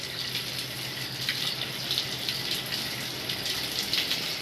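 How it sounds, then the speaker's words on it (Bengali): Curry leaves being rinsed under a running tap, a steady close splashing gush of water that runs continuously without pause. "কারি পাতাগুলো এবার আমি ভালো করে ধুয়ে নিচ্ছি জল দিয়ে"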